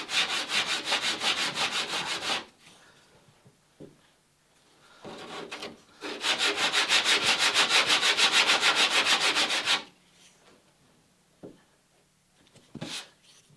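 Hand abrasive rubbing along the bevel of a wooden lapstrake plank in two long bursts of rapid back-and-forth scratching strokes, close and loud, separated by quieter pauses with a few soft knocks.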